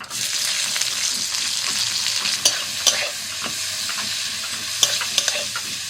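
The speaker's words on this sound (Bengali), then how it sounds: "দিয়ে দিচ্ছি পেঁয়াজ কুচি।" Chopped onion frying in hot oil in a wok with bay leaf, dried chilli and cumin, a steady loud sizzle broken by a few sharp scrapes and clanks of stirring.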